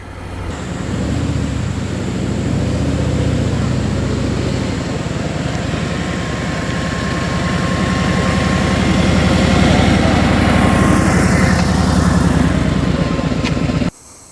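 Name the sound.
2018 Road Glide Ultra motorcycle engine running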